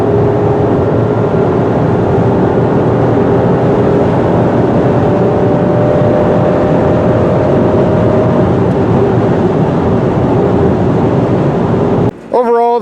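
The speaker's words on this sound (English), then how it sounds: "This Volkswagen is a nice highway car." A 2016 Volkswagen Tiguan with a turbo engine cruising on a highway, a steady low engine and road drone heard from inside the cabin, continuous and even throughout before a brief break at the end.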